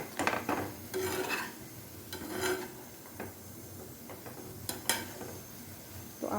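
A spoon is stirred through a pan of soya chunks curry with cooked tomatoes, giving soft scraping strokes and a few light metallic clinks over a faint simmer, quiet and close.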